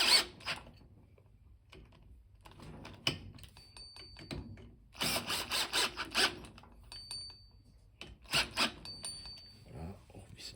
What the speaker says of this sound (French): on visse un petit peu la bague pour pas qu'elle tombe